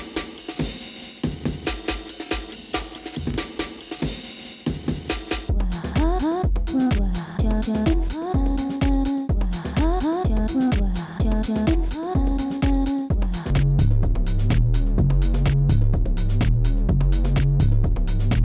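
Drum beats run through the Logic Beat Breaker plug-in, a busy electronic groove that starts dense and mid-level, then shifts into choppy, stuttering sliced hits with pitched tones before settling into a loud, steady pattern with heavy low end.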